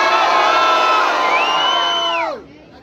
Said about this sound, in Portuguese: Quem acha que o Japa levou faz barulho?